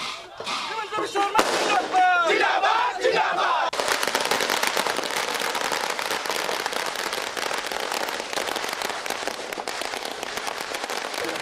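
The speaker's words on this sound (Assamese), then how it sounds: "আম্বেদকাৰ চকত ফটকা ফুটাই পালন কৰে বিজয় উৎসৱ" Firecrackers burst at Ambedkar Chowk in Nalbari during a street victory celebration by BJP party workers: a dense, continuous crackle of rapid pops that follows a crowd's cheering and shouting.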